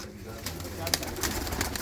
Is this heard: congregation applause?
no